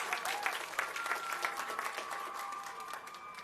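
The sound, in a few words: applause for a graduate at commencement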